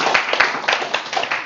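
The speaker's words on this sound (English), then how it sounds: "Let's give a big round of applause." An audience at a research knowledge-management discussion event gives a short, bright round of applause, a brief burst of many hands clapping together fairly close and loud.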